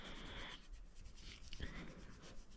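Old thermal paste being scrubbed off an HP Omen 15 laptop's components, heard as a quiet, continuous dry rubbing and scraping close to the mic, with no talking.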